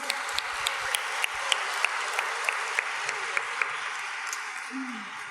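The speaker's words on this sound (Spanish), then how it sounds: "Vamos a recibirla con un aplauso." A room of audience members claps to welcome a woman to the front at a talk on intergenerational healing, a moderate steady patter with sharper individual claps standing out.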